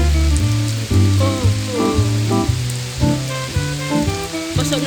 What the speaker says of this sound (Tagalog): Maaraw, tapos bigla na lang umulan.